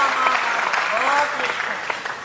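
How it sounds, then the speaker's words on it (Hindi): Audience clapping fills a Hindi poetry recital at a kavi sammelan in Bhopal held for Hindi Diwas, a dense steady wash of applause running throughout with a voice speaking over it. "अब बजाते जाइएगा तालियां शेर पे तो मुझे मजा आएगा।"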